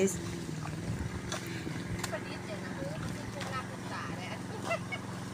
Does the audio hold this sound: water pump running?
yes